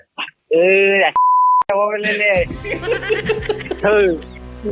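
A steady censor beep tone cuts across swearing on a prank radio phone call, one long bleep between bursts of speech, followed by loud talk and laughter.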